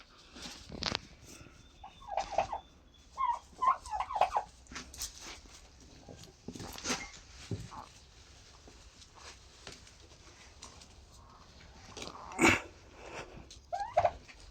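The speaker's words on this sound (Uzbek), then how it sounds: "Erkak kurka mana" A male turkey gobbles in several short, rattling bursts spread across a quiet background, with soft rustling and faint animal noises between calls.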